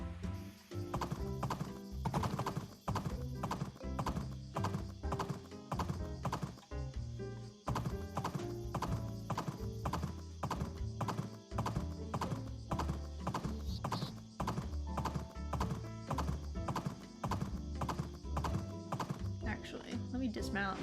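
Horse hooves clip-clop in a steady, brisk rhythm during a ride in Doraemon Story of Seasons. The loud, continuous trotting carries on for the whole stretch, with bright tonal sounds layered over it.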